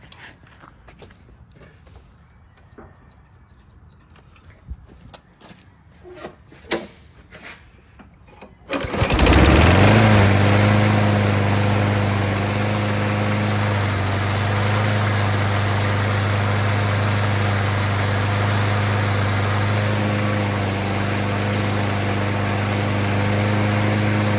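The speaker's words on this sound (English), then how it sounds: "we got that little Craftsman converted over to primer start and it runs great" A little Craftsman lawn mower with a Briggs and Stratton engine converted to primer start: a few quiet handling clicks and taps, then a pull start catches and the engine bursts into a loud, steady, buzzing idle that runs on alone.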